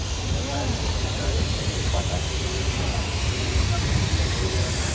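Tapaswini Express train departing Orga railway station after a freight crossing, a loud, continuous hissing rush of rolling noise with a steady low rumble, unbroken throughout.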